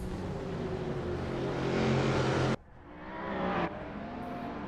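Race cars at the Classic Le Mans roar loudly off the start, a dense engine blare that cuts off abruptly and then builds again as more cars surge past.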